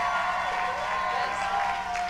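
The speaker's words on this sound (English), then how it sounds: "will you all give a huge round of applause for Jessica Reid?" An audience at a testimony gathering claps and cheers in a continuous, fairly distant wash of sound for two seconds, with no clear voices rising above it.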